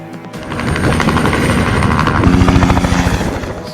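A helicopter flies near Jolly Grant and Mussoorie in Uttarakhand, its rotor giving a loud, steady, rapid chopping thump with a whining engine beneath, swelling slightly as it passes close.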